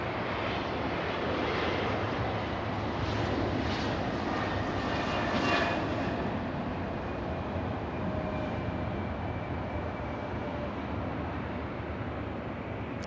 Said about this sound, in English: Let's go for the little E175. Mighty E175.